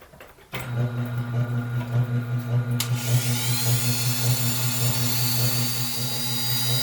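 A fine needle being sharpened to a point on a small motorized grinder while building a model ship, a steady close whirring hum that rises into a harsher grinding hiss partway through, with no talk.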